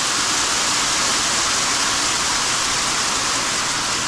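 Hail storm on a summer day pounding down in a dense, continuous roar of impacts, loud and unbroken, with no talking.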